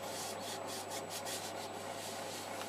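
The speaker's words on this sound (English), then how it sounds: "I'm sanding using a little drill with a Velcro pad" Holly wood natural-edged bowl being sanded with a small drill fitted with a Velcro pad: a steady, close abrasive rubbing with faint rhythmic pulses as the pad passes over the turned surface, alone without talk.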